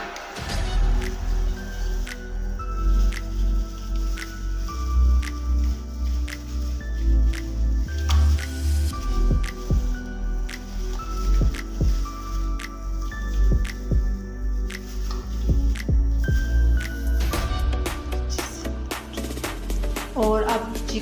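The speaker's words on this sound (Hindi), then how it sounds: "और अब चिकन को मसाला अच्छे से लगा दिया है मैंने" Hands working masala marinade into chicken pieces, giving soft, wet squishing and smacking sounds that repeat steadily, close up, with someone talking over the kneading.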